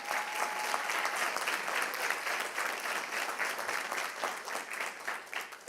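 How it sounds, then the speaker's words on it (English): First-generation college students applaud themselves at a scholars academy event, a steady, dense crowd of hands clapping continuously at moderate distance with no voices over it. "Give yourself a round of applause."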